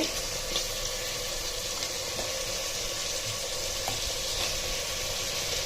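Potatoes frying in a little oil give a dense, even hiss that holds steady and close for the whole stretch, with faint clinks now and then and no speech.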